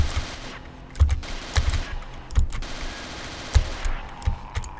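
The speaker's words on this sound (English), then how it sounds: "we can grab the portable MG42" A portable MG42 machine gun in the Castle Totenkopf video game fires in several short, sharp bursts and single cracks, loud and close, with brief gaps between them.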